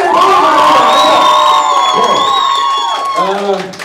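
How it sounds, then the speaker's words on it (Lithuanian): A crowd cheers and whoops loudly for Emilija at a school event, a burst of excited voices and shouts that fades toward the end, with little distinct clapping. "plojimai Emilijai!"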